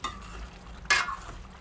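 Bihari-style chicken pieces with masala stir-fried in a pan, a soft steady sizzle broken by one sharp scraping stir of the spoon midway, close and fairly quiet.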